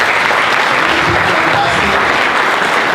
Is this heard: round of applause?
yes